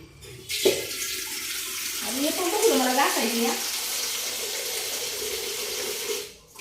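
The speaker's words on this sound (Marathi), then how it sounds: "थोडंच घेतलंय बरं का पाणी" Water runs into a vessel as a small amount is taken for heating, a continuous near splashing flow with someone talking over it briefly.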